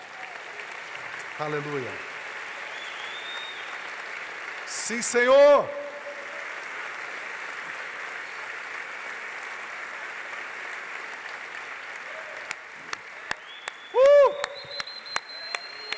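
A church congregation applauds in praise, a broad steady wash of clapping running under the whole stretch, with a few shouts from voices rising above it.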